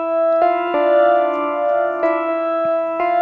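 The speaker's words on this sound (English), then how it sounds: "And then we got this sort of 80s keyboard sound." An 1980s-style synth keyboard patch in a Logic session plays sustained bright chords, with several clean re-struck notes changing in a slow rhythmic pattern, clear and upfront with no other sounds.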